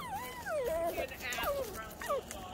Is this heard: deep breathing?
no